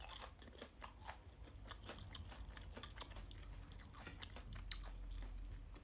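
Crunchy breaded scampi being chewed in a quiet room, close and soft, with steady repeated crisp bites and crunches running throughout.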